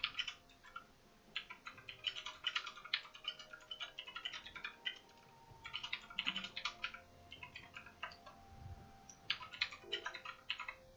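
Computer keyboard typing heard throughout during a game coaching session: quick, irregular bursts of clicky keystrokes with short pauses between flurries, fairly close and moderately loud, with no voices.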